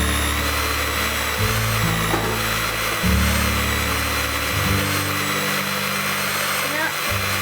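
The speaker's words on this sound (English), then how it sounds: "The mixer is struggling a bit." A stand mixer kneading pizza dough groans loudly, its motor whine dropping and rising in pitch as it labours under the heavy load, close and continuous.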